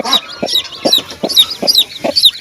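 Cochin chicks and hens cluck and cheep close by, with soft low clucks from the hens mixed with repeated high chirps from the chicks in a busy, steady run.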